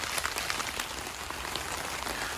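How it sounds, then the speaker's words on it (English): Heavy rain pours steadily on an allotment beside a polytunnel in October, a dense, constant hiss of drops on surfaces with no voices. "it's still absolutely tipping it down with rain"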